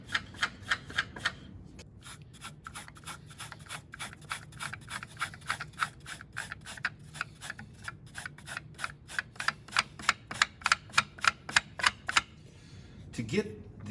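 Rapid rhythmic rasping strokes of sandpaper filing the felt hammers of an upright piano, brisk back-and-forth scrapes close up, pausing briefly then continuing in a steady run.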